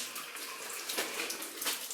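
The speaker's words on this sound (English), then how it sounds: "This water really slows down here." Water flows steadily through an underground placer gold mine, a soft continuous wash and trickle, fairly faint and with no one talking.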